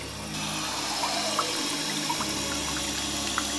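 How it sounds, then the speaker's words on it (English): Water rushing steadily through a newly installed back-to-wall rimless toilet on its first flush, a close, continuous gushing swirl with no voices. "So you're going to witness me first flush."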